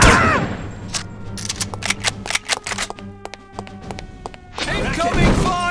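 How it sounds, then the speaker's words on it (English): Gunfire in the video game No One Lives Forever: rapid bursts of shots and sharp cracks, loud and close, with voices talking over the start and end. "Incoming fire!"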